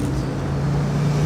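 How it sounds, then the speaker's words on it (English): A Jaguar XK150 and a 1967 Morris Minor pull away at a classic car show, a low steady engine rumble heard at a moderate distance. "The XK150 departs, as does 67 Moggy"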